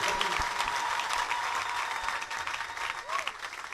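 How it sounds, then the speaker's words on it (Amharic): A church congregation applauds in praise of God, many hands clapping in a continuous dense patter, close and fairly loud, with faint voices mixed in. "ብቻውን ለሚሰራ ለእግዚአብሔር እስቲ ታላቅ ጭብጨባ።"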